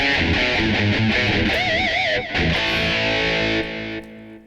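Electric guitar through a Line 6 Helix Mesa Boogie amp model with a boost, light chorus, delay and hall reverb: a fluid, singing melodic line with wavering bends and vibrato, then sustained notes ringing out and fading.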